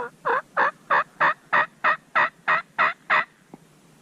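A wild turkey tom gobbles from an Oregon mountain ridge in spring, a rapid run of about eleven evenly spaced calls, fairly clear, followed by a faint final note.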